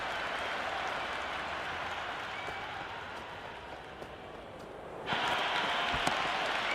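A stadium crowd applauds during an India vs England one-day international in the video game Cricket 26, a dense, steady wash of clapping and crowd noise that swells louder near the end.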